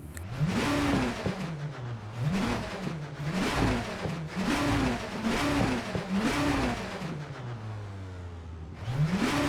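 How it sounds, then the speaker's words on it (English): An Audi A4 Quattro BTCC race car engine revs up and down repeatedly in quick cycles, loud and close, then winds down before revving again. "watching this car drive around with its amazing noises"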